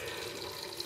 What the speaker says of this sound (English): I'm gonna turn the water on really low so I can hear what the fuck I'm saying.